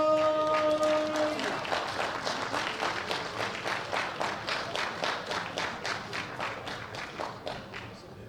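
Audience applause rings out for a Swedish bronze medalist at the 2016 World Bench Press Championships, open women's 57 kg class. Dense clapping starts after a sustained tone fades and continues steadily, slowly thinning toward the end.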